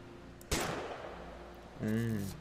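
A single sharp gunshot in the game What Remains of Edith Finch cracks out and decays into a fading echo, followed by a voice speaking.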